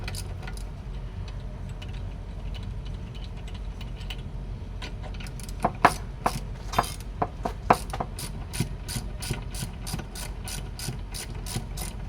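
A ratchet backing off half-inch nuts on a Volvo outdrive, quiet handling at first, then a quickening series of sharp clicks close by over a low steady hum.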